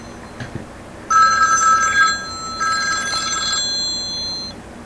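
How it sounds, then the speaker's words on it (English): A telephone rings in two loud, clear bursts, the first about a second long and the second longer, over quiet room noise, with no talking. "And, of course, we have a phone call."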